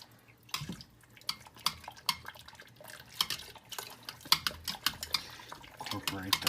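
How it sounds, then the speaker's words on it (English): Two cups of milk poured into a pot of potato garlic soup, a soft close liquid splash under clinking pot and utensil knocks, with light talk. "I'm going to add the milk to this. We got 2 cups of milk."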